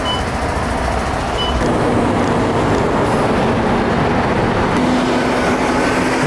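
Loud traffic at a city bus stop, a steady heavy rumble of passing vehicles with a low engine hum that rises midway and carries on without a break.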